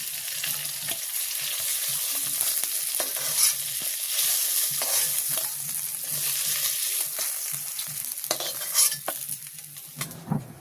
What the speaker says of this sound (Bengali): মাছগুলো সুন্দর করে ভাজি করে নিলাম, একদম কড়া করে